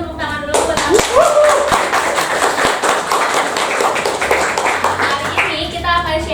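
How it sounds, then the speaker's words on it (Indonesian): Hands clap rapidly and loudly at a close-miked business sharing session, with voices calling out and cheering over the clapping throughout. "Mungkin tepuk tangan dulu buat aku."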